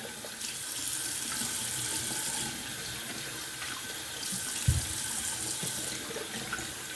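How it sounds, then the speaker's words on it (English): Cold water runs steadily from a sink tap for a rinse, a continuous close hiss of flow with a small clunk near the middle and no talk. "Little cold water rinse."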